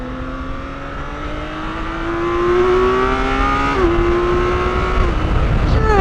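BMW K1600 Bagger motorcycle engine accelerating hard, its rising whine steadily climbing in pitch before a brief gear change, then pulling up again, loud and close throughout.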